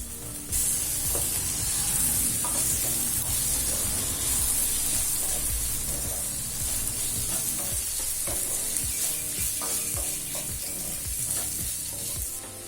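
Onions and tomato sauté in a pan for a mint pulao, a continuous close sizzle broken by repeated scraping stirs, with no one talking.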